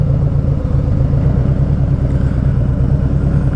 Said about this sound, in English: There's a lot of people on bikes today.